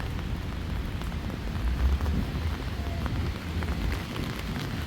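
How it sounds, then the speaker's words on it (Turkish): Steady rain falls in a continuous hiss with a low rumbling wash underneath, fairly close, with no talking. "Hava da aslında yağmurlu olmasına rağmen"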